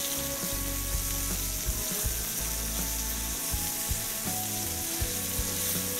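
Veal cutlets sizzle and fry steadily in a hot pan on the stove, a continuous close crackle with occasional louder spits and no talking.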